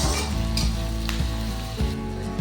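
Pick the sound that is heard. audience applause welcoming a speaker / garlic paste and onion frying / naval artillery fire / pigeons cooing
garlic paste and onion frying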